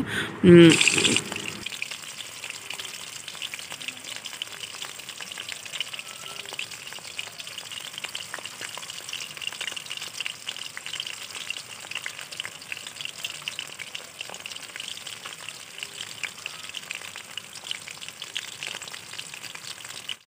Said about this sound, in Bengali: পকোড়ার মতো করে ভেজে নেব